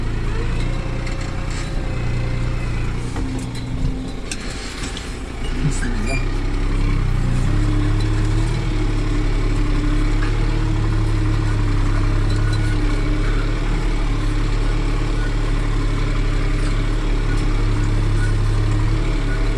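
A New Holland TT4.65 tractor engine idles with a steady low rumble throughout, loud and close, with faint talk at the start.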